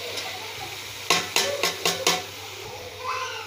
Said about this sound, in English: I'm adding my onion